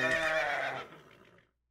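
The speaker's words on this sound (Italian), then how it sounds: "Ho sentito dei cavalli." A single horse neighs in Minecraft, a loud whinny that trails off over about a second and a half before going silent.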